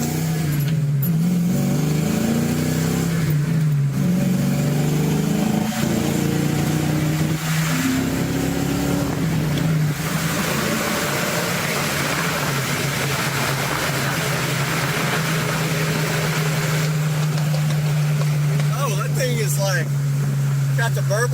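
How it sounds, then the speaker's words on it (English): BMW car with a burble tune, its engine droning and revving loudly and steadily close by, with no clear separate backfire pops, and voices talking over it. "You hear it backfire? Oh yeah, big time. It's got the tune. What is it, a Beamer? Yeah, BMW with the burble tune."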